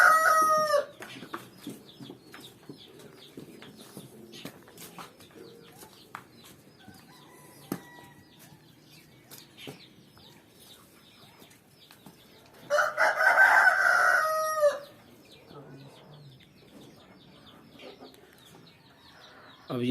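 Roosters on a farm crow several times, one loud close crow in the middle and fainter ones at the start and end, with scattered clucking and bird calls throughout.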